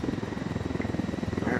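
Helicopter in the video game Ghost Recon Wildlands, a steady rhythmic rotor chop with low engine hum, held at moderate loudness for the whole moment with no talk over it.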